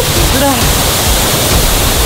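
Waterfall pouring during waterfall training (takigyo) in Japan, a loud, dense, unbroken roar of falling water close by, with a brief voice speaking over it at the start.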